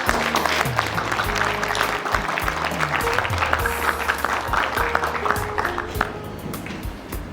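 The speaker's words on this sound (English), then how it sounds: "Hardik Mayer with a huge round of applause." Audience applause at a company's ninth anniversary celebration and awards evening, dense clapping from a crowd continuing throughout while steady background music plays under it.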